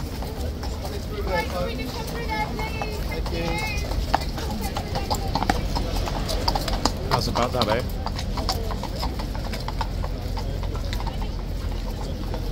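Rhythmic clip-clop of police horses' hooves on pavement, steady and close, over a crowd murmur and outdoor bustle, with someone speaking briefly.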